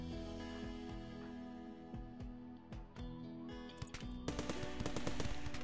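Colonists firing guns in the video game Rimworld: rapid bursts of gunshots over a steady game soundtrack, growing denser and louder toward the end, with no talking.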